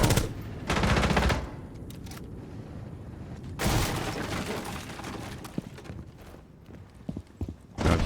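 Gunfire in Rainbow Six Siege: a couple of rapid automatic bursts, loud and close, separated by quieter stretches with scattered single shots and clicks.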